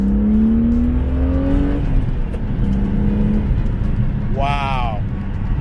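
A BMW E36 M3 fitted with an Injen intake revs up from a steady idle hum, engine pitch climbing and then flaring in a quick loud blip near the end, close by.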